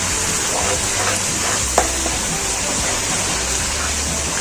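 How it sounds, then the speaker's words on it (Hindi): Water is poured into masala cooking in a karahi for Peshawari chicken karahi, a steady hissing rush and sizzle throughout, loud and close, with a small clink partway through. "यहाँ पे बस मैं थोड़ा सा पानी डालूंगी ताकि मसाले अच्छे से इसमें मिक्स होते हैं"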